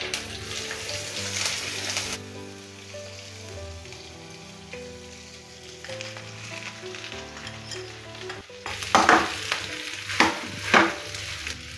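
Cumin seeds, torn curry leaves and green chilli hitting hot oil for a buckwheat-flour dosa for Navratri fasting; a soft sizzle sits under music, then sharp crackling bursts flare up near the end.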